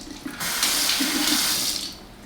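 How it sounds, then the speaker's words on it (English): Water poured into a bowl of Hawaiian roll dough ingredients, a steady splashing trickle lasting about a second and a half, close and fairly loud, with no talking. "I'm going to just put 2 tablespoons of water"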